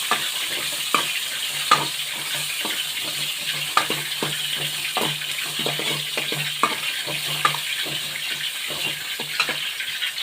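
Two onions frying in a pan give a steady, close sizzling hiss dotted with sharp little pops and crackles throughout, with no talking.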